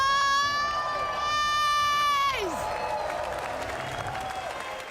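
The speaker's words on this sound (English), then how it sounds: "we want to hear an even bigger cheer for the Nations Cup Grand Final here in Los Angeles" A large crowd at the GT World Series Nations Cup Grand Final in Los Angeles roars with cheers and applause, while a bright whistle-like tone holds steady then sweeps downward partway through.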